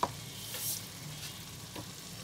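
Pointed gourd dropped into frying spice masala with ginger, a steady soft sizzle with a brief clatter at the start and light stirring scrapes.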